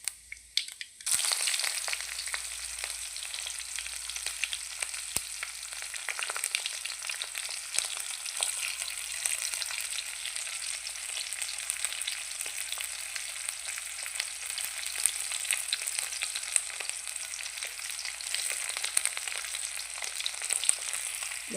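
Chopped onions frying in a pan while preparing okra and potato fry, a constant soft crackling sizzle that starts after a brief clatter and continues evenly throughout.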